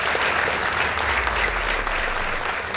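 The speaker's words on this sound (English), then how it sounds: "Please give them a round of applause." An audience at a secondary school competition applauds Kisima Mixed Secondary School after its score is announced, a loud, dense, continuous clapping from a large crowd that holds steady throughout.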